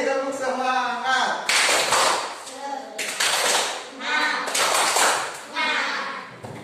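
Children in a classroom clap out the rhythmic "tepuk semangat" chant, three loud bursts of patterned hand claps with voices chanting along, alternating with an adult speaking between the rounds.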